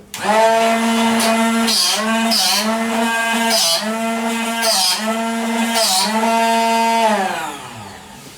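A drill runs in a loud, close, steady motor whine that dips and recovers in pitch several times as it bites in, then winds down at the end.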